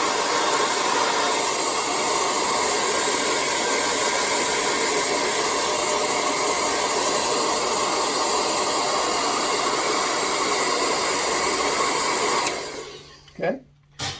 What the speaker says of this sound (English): use my handy dandy blow dryer.